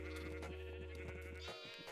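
Sheep in the Minecraft video game give a few short, nasal bleats, close and fairly loud, over a steady low background hum, without any talk.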